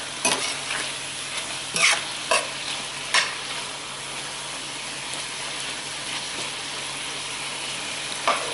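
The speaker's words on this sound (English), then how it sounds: "it's sizzling now because it's getting hotter" Steady sizzling of chicken stir-frying in a pan, with a few sharp clatters and stirring scrapes breaking through the continuous hiss.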